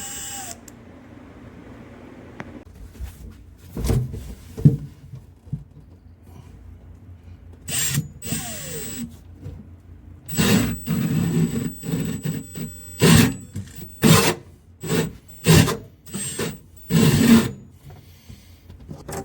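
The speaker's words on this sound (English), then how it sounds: "it's got a lathe cutter right there, and you run it at a very slow speed" A lathe-style hole cutter turns slowly while cutting a hole during Jeep YJ heating and air conditioning work, making intermittent rasping, grinding bursts that grow longer and more frequent, close and fairly loud.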